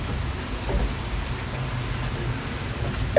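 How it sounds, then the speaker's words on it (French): Steady rain pours down onto a balcony, making a dense, even hiss with a low rumble beneath and the occasional louder drop up close. "La pluie a attendu que je finisse ma vidéo avant de tomber. Il pleut."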